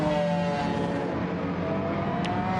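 A McLaren F1 BMW race car in a racing video game screams with a high, buzzing engine note, held steady and loud throughout with layered harmonics, like a swarm of hornets.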